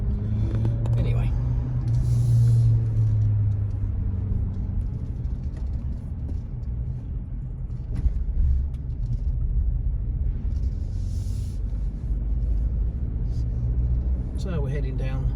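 A car drives through the town centre of Anapa, Russia, at night, with a steady low engine and road rumble heard from inside the car, under some talk.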